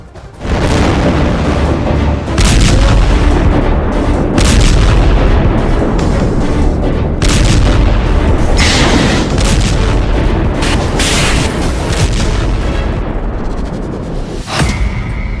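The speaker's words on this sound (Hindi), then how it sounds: "हिजबुल्लाह ने कई मिसाइल दागी।" Missile attacks along the Lebanon-Israel border, heard as a loud, continuous barrage of booming blasts and heavy rumbling with repeated sharp bursts throughout, with no voices.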